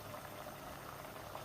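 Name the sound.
water boiling in a pot of rice for palau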